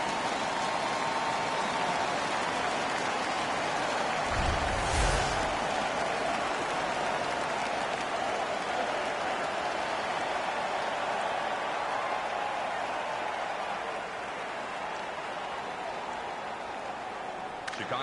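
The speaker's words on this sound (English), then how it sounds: "The crowd is ecstatic." Hockey arena crowd roars in a steady, loud wash of cheering after a fight during a Colorado vs. Chicago playoff game, sustained throughout with a brief burst of thumping noise near the middle.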